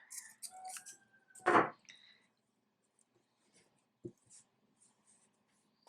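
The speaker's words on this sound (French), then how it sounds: "je coupe le fil" Scissors snip through crochet yarn in one short, crisp cut after a granny-square join, heard close and alone in a quiet room, followed by faint handling clicks.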